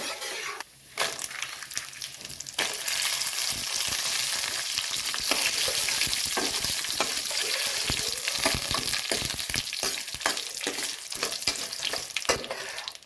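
Dried red chillies fry in hot oil for perandai thovaiyal (adjustable-leaf vine chutney), giving a loud, steady crackling sizzle with scattered sharp pops and spatters that holds for the whole stretch, with no voices.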